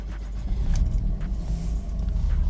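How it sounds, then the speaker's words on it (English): A small Daihatsu Terios kei car engine starts from cold and settles into a steady, low rumbling idle, close by and fairly loud throughout with no talking. "let's give this little dude a cold start"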